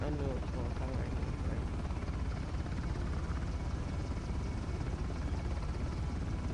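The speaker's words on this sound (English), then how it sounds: "But I need the helicopter not to see me either." A helicopter in the video game Uncharted: The Lost Legacy drones overhead as a steady, loud rotor wash that fills the scene from start to finish.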